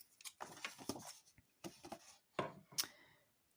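Scissors cut paper pieces for a Christmas basket craft, giving a series of close, crisp snipping and rustling bursts in an irregular rhythm with short pauses between them, quiet overall and with no talk.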